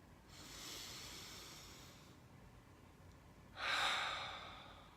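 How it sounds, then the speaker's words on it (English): Two deep breaths in a quiet room, each a long, soft airy exhale with a pause between, close and unhurried. "Just taking really big, deep breaths and just letting them out."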